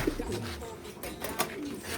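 Pigeons coo softly nearby, low rounded calls over faint background noise.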